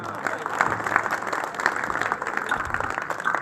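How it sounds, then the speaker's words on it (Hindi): An audience claps throughout a patriotic poetry recital at a kavi sammelan, a dense, steady patter of many hands at moderate loudness, with faint crowd murmur underneath. "थोड़ी तालियां और खुलेगा।"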